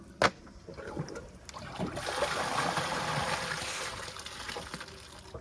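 A Kohler Highline Arc toilet flushes: after a sharp click, water rushes and swirls in a steady, hissing flow that builds and holds for several seconds nearby.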